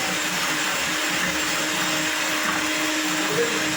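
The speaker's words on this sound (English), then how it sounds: "I'm going to use my hand mixer and cream the sugar and butter" A handheld electric mixer whirs steadily, creaming sugar, oil and butter for a red velvet cake batter, its motor hum continuous and close with a faint rattle of beaters in the bowl.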